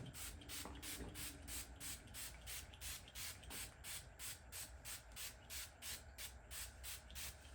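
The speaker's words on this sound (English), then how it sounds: "But I'm not going to put this hyaluronic spray on, because I think this has hyaluronic in it. Okay, no, I'm going to put this on first." Hyaluronic face spray misted in a steady series of short hissing bursts, repeated evenly and closely without any talking.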